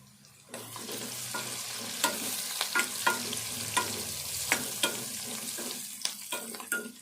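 Onions fry with spices and turmeric in a pan, making a continuous close sizzle broken by repeated clinks and taps from stirring. No voices are heard.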